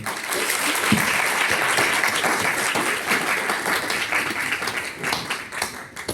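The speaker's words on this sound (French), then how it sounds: "vous pouvez l'applaudir" An audience at a professional club talk on business car taxation applauds steadily and loudly, a dense wash of many hands clapping that holds for the whole stretch and thins slightly near the end.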